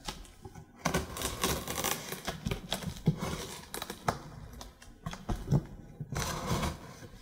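A sharp knife slices through taped cardboard on a Corsair Vengeance C70 computer case box, with close, scratchy rasping strokes in irregular bursts and short pauses between cuts.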